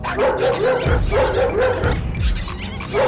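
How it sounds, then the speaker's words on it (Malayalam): A cartoon dog barks repeatedly in quick, yapping bursts, loud and close, with short gaps between each volley. "അയ്യോ, പട്ടിക്കുര കേൾക്കുന്നല്ലോ."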